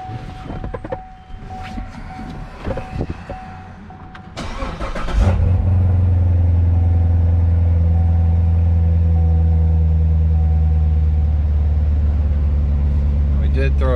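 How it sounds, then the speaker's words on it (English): A Chevrolet C7 Corvette V8 cranks and catches after a few seconds of workshop handling noise, then settles into a loud, steady, rumbling idle that holds close and unbroken to the end. "Let's fire it up, let it get up to temperature"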